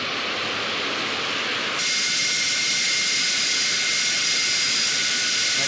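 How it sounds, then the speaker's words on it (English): A jet airplane's engine roars as the aircraft moves away, a steady broadband rushing noise that rises a little in level partway through, with no voices. "There's a plane moving away."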